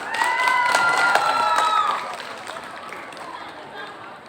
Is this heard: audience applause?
yes